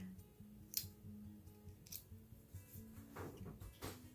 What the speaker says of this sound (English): All we're doing is cutting the thread.